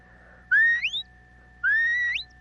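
A sheepdog herding whistle for the counterclockwise flank command sounds twice, each a loud, clear rising tone held briefly then swooping upward, with a short gap between.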